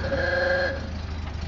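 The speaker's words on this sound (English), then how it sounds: "And we got a horn." A 1929 Ford Model A pickup horn gives a buzzy, nasal honk for under a second, then cuts off, leaving a low idling engine rumble.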